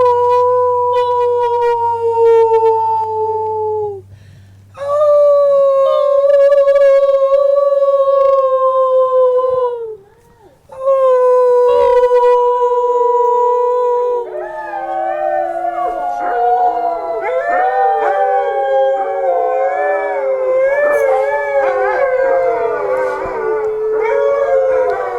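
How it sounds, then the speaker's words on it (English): Alaskan sled dogs at a kennel in Fairbanks howl in long, loud, sustained tones, first a single voice, then several joining into an overlapping chorus, close by and with no talking. "Usually they howl after dinner, kind of as a thank you."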